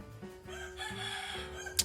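A rooster crows in the background during an outdoor motorcycle battery repair. Its drawn-out call carries at moderate volume, followed by a short sharp noise at the end.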